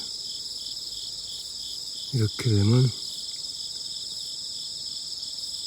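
Crickets chirp in a high, unbroken shimmering drone across a cabbage seedling garden planted for kimchi, holding steady throughout while someone speaks briefly in the middle.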